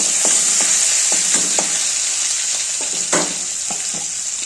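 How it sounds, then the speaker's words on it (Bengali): Hot oil sizzles steadily with dry chillies and bay leaves frying in a kadai, punctuated by a series of sharp stirring clicks against the pan. "তেলটা গরম হোক আর কড়াইয়ের মধ্যে শুকনো লঙ্কা আর তেজপাতা"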